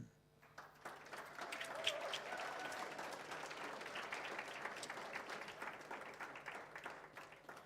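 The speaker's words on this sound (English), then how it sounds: "Keep on applauding." An audience claps for a student award winner at a mathematics olympiad awards function, the applause swelling in after a quiet start and holding steady at moderate loudness from many hands.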